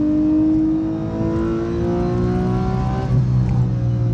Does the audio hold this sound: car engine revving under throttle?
yes